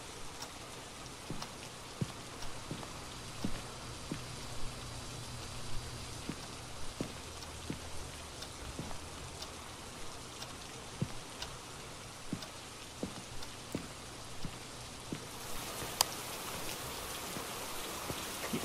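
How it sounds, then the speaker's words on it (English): Steady rain falling in the horror video game Phasmophobia, a dense continuous hiss with scattered drip ticks, heard alone with no talk. "I just noticed there's a raining condition in this game."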